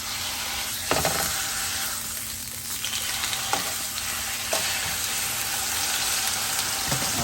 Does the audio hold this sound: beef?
yes